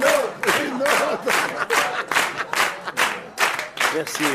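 Studio audience applause on a 1992 French television talk show, a dense steady wash of clapping with rhythmic pulses, as if partly in unison, while voices sound underneath.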